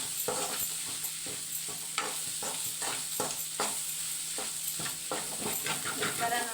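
Egg rice ingredients stir-fried in a hot pan, a constant sizzle broken by repeated sharp scrapes and clacks of the spatula in an uneven rhythm, close and fairly loud.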